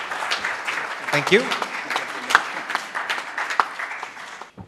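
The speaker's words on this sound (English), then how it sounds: "Can we have a round of applause for Shri R.T. Chari?" Brief round of applause for an honoree at an annual day oration in a hotel hall in Chennai, moderate and scattered claps beneath a voice offering thanks.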